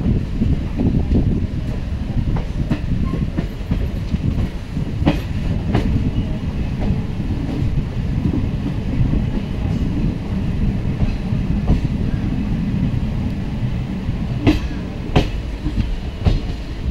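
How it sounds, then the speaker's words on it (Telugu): A passenger train on the Kurnool–Dhone line runs into Dhone station with a loud, steady low rumble heard from on board, scattered wheel clicks and rattles, and wind buffeting the microphone. "ట్రైన్ డోన్ స్టేషన్కి అయితే ఎంటర్ అవుతుంది."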